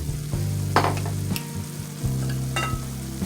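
White wine poured into a pan of sizzling chicken picadillo sauce with tomato sauce, a steady close frying hiss with brief splashy bursts and a stirring scrape, no voices.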